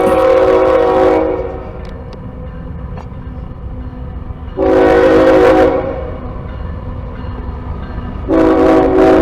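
A Norfolk Southern freight train horn sounds in three blasts, the first at the start, a longer one in the middle and another at the end, over a steady rumble of a passing train.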